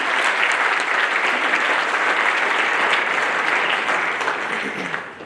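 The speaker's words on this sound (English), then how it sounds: "Let's give Smart Stroll a round of applause." Sustained audience applause fills the room at a business pitch night, a dense, even wash of many hands clapping for a student pitch team that holds steady, then thins slightly at the end.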